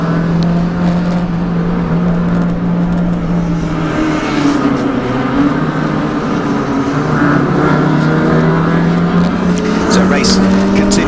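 Race cars lap Donington Park circuit in a national touring car race, with engines droning and shifting pitch as they pass and a continuous commentary voice over the top.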